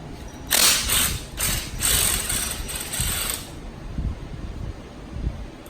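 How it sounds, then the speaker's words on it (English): An impact wrench with an 18mm deep socket spins off a strut nut on a Fiat 500, giving several loud rattling bursts in quick succession up close, followed by a lower mechanical rumble. "It just takes an 18mm deep socket and just use an impact."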